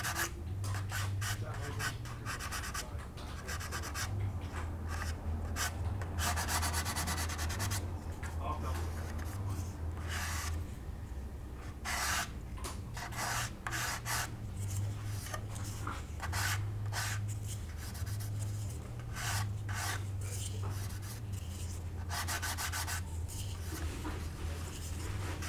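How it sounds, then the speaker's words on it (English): A model aircraft wing is hand-sanded to remove a dag, producing repeated close scratchy strokes in uneven bursts over a low steady hum. "Just give that a quick"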